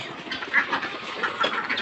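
Egg-laying ducks on a Thai farm quack in a few short nasal calls over a low murmur of the flock, close by and moderately loud.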